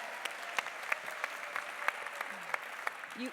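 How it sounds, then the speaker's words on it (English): A crowd at the SVRI Forum 2019 opening plenary applauds in a steady, even wash of clapping that carries on throughout, with scattered sharper claps and a voice faintly underneath. "give her a round of applause too"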